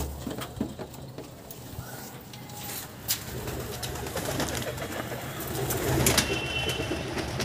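Pigeons gathered around a water drinker coo in low murmurs beneath patches of pattering and rustling, with occasional sharp clicks and a brief flutter, the sounds growing slightly busier toward the end.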